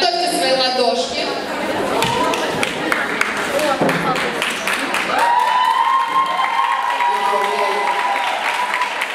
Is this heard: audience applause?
yes